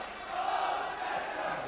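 Massed supporters at Dens Park in 1991/92, Dundee playing Falkirk, keep up a continuous rolling chant and roar, a broad crowd noise heard from a distance.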